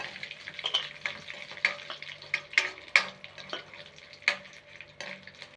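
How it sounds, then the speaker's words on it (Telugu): Ingredients fry in a pan toward golden, with a crackling sizzle and frequent scraping stirs clicking at irregular intervals, close up and without voices. "మంచిగా గోల్గా వేయించుకోవాలి మంచిగా"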